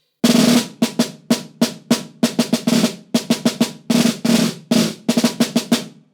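A snare drum plays a staccato passage of short, crisp strokes broken up by brief buzzing rolls, loud and close, with no talking.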